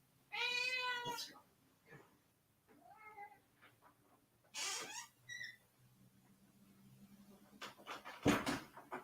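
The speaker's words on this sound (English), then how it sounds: "my cat wants to go out" Pet cat meowing insistently to be let out, several loud, drawn-out meows close by with pauses between them, in an otherwise quiet room.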